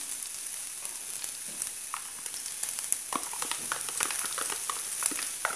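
Garlic cloves fry in three spoonfuls of olive oil in a pan, giving a continuous bright sizzle scattered with small crackles and pops, moderately loud and close, with no speech.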